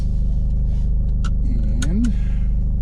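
A VW CC fitted with a new GFB turbo diverter valve drives under power, a loud, steady low engine drone heard from inside the car, with a few faint chirps over it.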